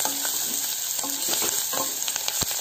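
Spiced masala being stirred in a hot frying pan, a steady close sizzle with scraping spatula strokes scattered throughout.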